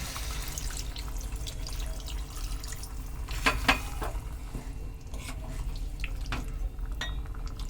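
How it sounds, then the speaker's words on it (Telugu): Water is poured into a pan of simmering chicken curry, giving a steady, fairly quiet hiss and sizzle with a few brief clinks and splashes over the background. "కొంచెం వాటర్ పోసుకుందాం."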